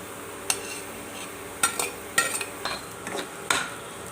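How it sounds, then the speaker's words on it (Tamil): A spoon stirs crushed garlic and pepper into half-softened onions in a pan, with a handful of scattered scraping and clinking strokes at close range and no speech. "இப்போ பூண்டு மிளகு இடித்து வச்சுருக்குத வெங்காயத்தில் சேர்த்துக்கிறேன்."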